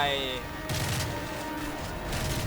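Rapid bursts of gunfire in Call of Duty: Modern Warfare 3 rattle in dense volleys, loud and continuous, with a steady background hum throughout.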